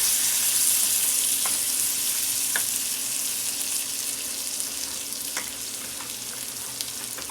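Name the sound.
sausage gravy bubbling and sizzling in a pan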